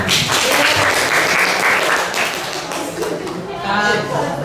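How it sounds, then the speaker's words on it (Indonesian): A classroom audience claps after a student group's presentation, with loud, close, brisk clapping throughout that thins slightly toward the end, mixed with some voices and light chuckling. "Kasih tepuk tangan."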